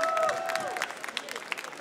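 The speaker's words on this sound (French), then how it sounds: "une tonne d'applaudissements pour la vice-championne de France en titre" Audience applause for the reigning French vice-champion at a brewers' cup competition in France, a fairly faint patter of clapping from a crowd with a few whistles cutting through near the start.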